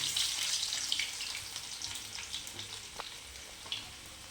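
Garlic hits hot oil in a pan for a Marathi spring-onion and moong dal dish, giving a continuous bright sizzle that gradually fades, with a few faint pops and a stir near the end.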